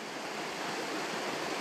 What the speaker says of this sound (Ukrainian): Це водоспад Малий Кузьминець.